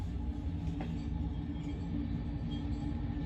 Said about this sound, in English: here we got a CPKC train coming